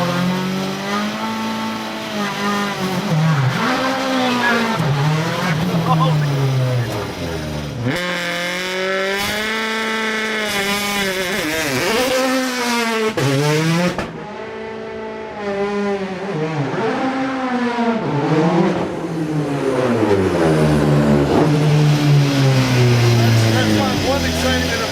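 Someone's rally car, in gear and set to stage mode, launches forward with loud, rising engine revs that sweep up and down repeatedly while people talk over it.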